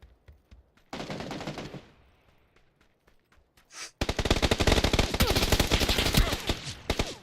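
Bursts of automatic gunfire in PUBG, first a short volley, a pause with scattered faint shots, then a long sustained loud stream of rapid close shots.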